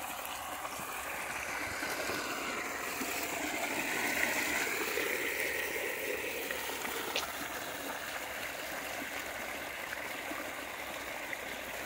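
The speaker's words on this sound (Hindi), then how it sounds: "ट्यूबवेल था उसका पानी है आप देख पा रहे हो" Water pours from a farm tubewell, making a steady, moderately faint rushing and trickling that holds throughout with no talk over it.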